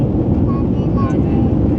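Loud, steady engine roar fills a passenger airplane cabin as the jet takes off on a London to India flight, a dense broadband rumble with faint tonal whines above it.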